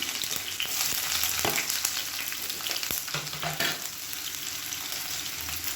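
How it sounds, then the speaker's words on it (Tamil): Onions frying in oil with curry leaves and green chilies for Dindigul chicken biryani, a continuous crackling sizzle broken by scattered spoon scrapes and clinks against the pan, no talking. "நீளமான இருக்குன்னா வெங்காயம் சேர்த்துக்கலாம்"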